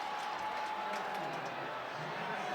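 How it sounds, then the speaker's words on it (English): Large baseball crowd at a Dodgers–Giants game in San Francisco, rising to its feet in the ninth inning and cheering for outs, a faint, steady distant roar with no distinct claps standing out. "The crowd here is starting to get on their feet and cheer for outs."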